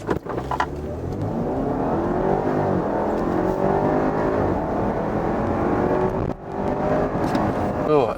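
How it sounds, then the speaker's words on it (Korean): An Audi Q5 45 TFSI engine pulls hard as the SUV accelerates from a standstill to 100 km/h, its rising pitch sweeping upward through several gear changes with a brief dip at a shift. "엔진 소리도 호쾌하고 시원하게 달려갑니다"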